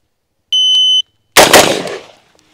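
A short electronic beep followed by a single sharp, loud gunshot from a CQ-A 5.56 M4-style rifle at a shooting range that cracks and decays quickly, then near silence.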